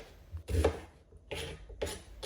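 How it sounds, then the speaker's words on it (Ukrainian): A knife chops onion on a board in three separate bursts of quick, close knocks with short quiet gaps between them, no talking. "Нарізаємо цибулю"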